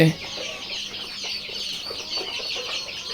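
Many layer chicks cluck and chatter together in a dense, continuous flock noise, close and fairly loud.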